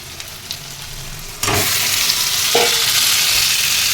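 Large chicken pieces for biryani hit a hot pan of masala with a sudden loud sizzle. The hiss of frying stays steady and close, with a short scrape of stirring partway through.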